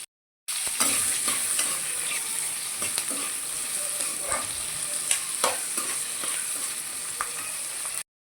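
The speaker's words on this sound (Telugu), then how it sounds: "ఇవి కూడా మంచిగా వేయించేసుకుందాం." Green chilies and onions fry in a pan for chicken kurma, a continuous close sizzle broken by frequent clicks and scrapes of stirring.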